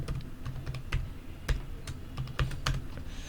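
Light, uneven keystrokes tapping on a computer keyboard while a password is entered, a quiet irregular clicking run with a few sharper presses and no voices.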